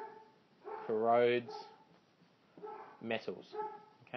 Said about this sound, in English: apologies for my dogs tonight, they're a bit crazy